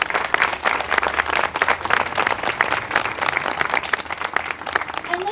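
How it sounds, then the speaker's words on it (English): Outdoor crowd at a learning garden dedication breaks into loud, sustained applause, dense clapping throughout with a faint voice surfacing briefly near the end. "let's give another big round of applause for all of these prophetic voices that we heard this morning"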